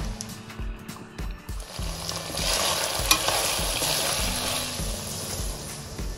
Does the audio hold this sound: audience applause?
no